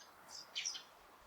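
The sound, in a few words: birds singing in a park in the morning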